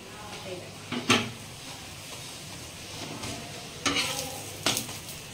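Dough puffing while frying in hot oil, a constant hiss of frying with a few bright spatula scrapes and clatters against the pan.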